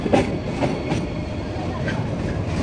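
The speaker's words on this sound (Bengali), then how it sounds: "ট্রেনের সাউন্ডের কারণে আসলে কিছু শোনা যাচ্ছে না" Trains rumble across a railway bridge in Cologne, Germany, continuously and loudly, a dense low roar with faint metallic rattling.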